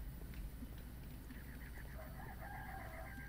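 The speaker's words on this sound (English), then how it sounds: "I heard a rooster cook-a-doodle-doo." A rooster crows in the Sherlock Holmes: Crimes & Punishments video game, one drawn-out cock-a-doodle-doo heard faintly at a distance in a garden over a low ambient hum.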